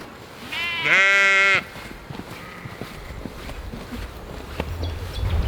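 Goat on Chestnut Brae farm lets out one loud, wavering bleat close by, followed by quieter rustling, shuffling and faint farm background noise.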